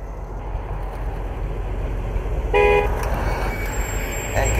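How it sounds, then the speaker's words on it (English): Car horn honking in the video game Mafia 2, outside a body shop garage door, with a couple of short horn toots standing out over a steady low engine idle and street ambience. "now honk your horn"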